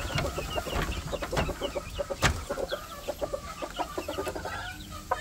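Chickens cluck in a busy flock in a poultry pen, with hens and roosters recently separated; overlapping clucks and short calls come close and fairly loud, with no talking.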